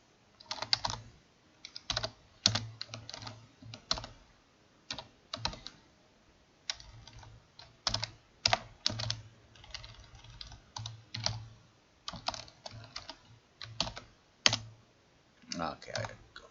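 Irregular runs of keystrokes on a computer keyboard, close and crisp, with short pauses between bursts of typing.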